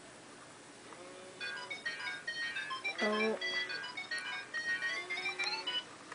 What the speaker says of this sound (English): That's a text message.